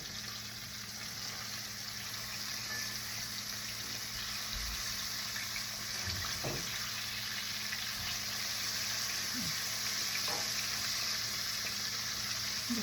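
A pork chop fries in hot grease, a soft continuous sizzle and bubbling heard from a little distance, with a few faint knocks mixed in.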